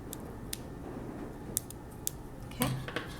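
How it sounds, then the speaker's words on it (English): Scissors make one crisp snip through burlap fabric near the end, preceded by a few faint clicks of handling against a quiet room background. "With my scissors, I'm just going to make a little snip."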